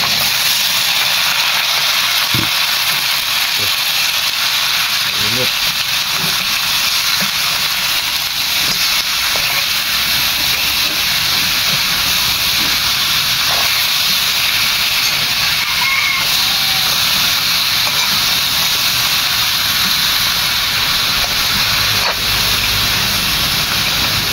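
Pork ribs dropped into a hot pan crackle into a loud, continuous sizzle that hisses steadily throughout, with scattered pops and faint kitchen clatter underneath.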